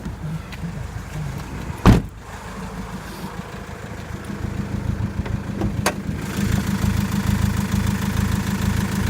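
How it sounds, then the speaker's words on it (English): 2014 Ram ProMaster cargo van engine idling after a sharp thump, settling into a steady, close mechanical rumble that grows slightly louder and fuller. "let's go back to that engine so you can hear how it sounds"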